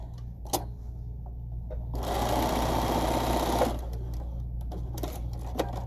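A sewing machine runs steadily for about two seconds, straight-piecing quilt binding strips sewn right sides together, with a few light handling clicks before and after the burst.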